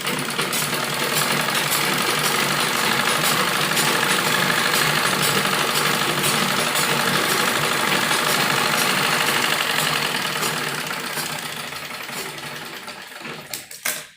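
A sewing machine stitches the back piece of an umbrella frock, a fast, steady mechanical whir running close and continuous for about twelve seconds before it slows and stops.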